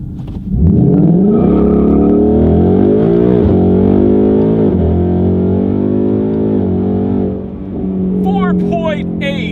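A 2019 Ford Mustang GT V8 launches hard from a stop, its engine climbing through the revs with rising gear pulls and a shift, loud and close, with voices at the end.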